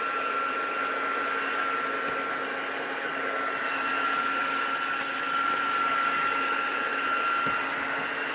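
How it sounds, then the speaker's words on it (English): A heat tool blows continuously at close range, drying wet ink on a stamped floral card with an even, unbroken whirring hiss throughout. "I'm going to put the heat tool on just to dry out any wet areas"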